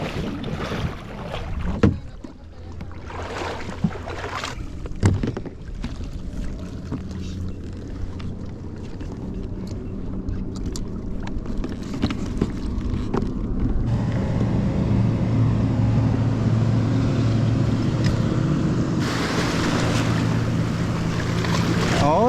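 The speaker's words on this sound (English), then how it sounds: "record some of the action of this thing going through the gravel and all this stuff" A pedal drive kayak, the Riot Mako 8.5 Air, is rolled over gravel outdoors, giving a rough crunching and rattling that grows louder and more constant toward the end, with scattered knocks early on.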